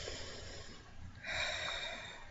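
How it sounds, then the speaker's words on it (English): One slow deep breath drawn in through the nose and let out softly, close and quiet, with no speech. "Now, take a deep breath"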